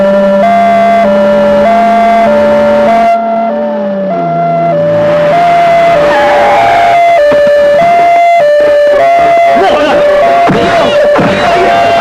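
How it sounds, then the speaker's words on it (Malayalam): An ambulance siren wails loudly and continuously in a repeating two-tone pattern, close and dominant, with shifting engine and effect noise beneath. "ആംബുലൻസ്."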